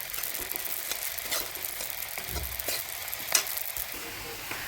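Poppy seeds dry-roasting in a pan for a homemade red chilli spice mix, giving a soft, steady hiss with faint scraping stirs at intervals, close but quiet.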